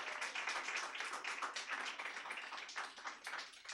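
Steady applause from a comedy show audience, dense clapping that holds at an even level for several seconds with no talking over it.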